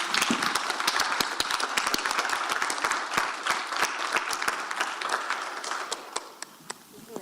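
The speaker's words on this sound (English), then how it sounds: "I'd like to give you a round of applause" An audience at a women in data science talk applauds, a sustained wash of many hands clapping that tapers off into scattered individual claps, with a few voices murmuring under it.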